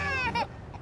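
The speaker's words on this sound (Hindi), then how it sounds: "इंजन स्टार्ट करो तो बच्चे के रोने की आवाज।" A baby wails in two quick, close, fairly loud bursts inside a car just as the engine starts, then the crying breaks off.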